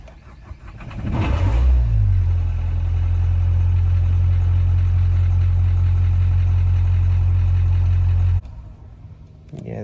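A Nissan Juke engine starts with a brief burst, then idles roughly at a steady, loud, low drone for several seconds before cutting off abruptly near the end.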